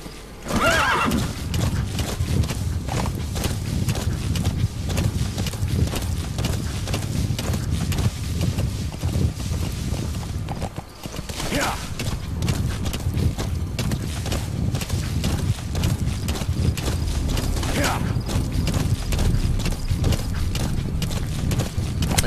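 Horse hooves clip-clop steadily in a Metal Gear Solid 5 game scene, with sharp whinnies and neighs rising over the galloping around the first, twelfth and eighteenth seconds, loud and continuous without speech.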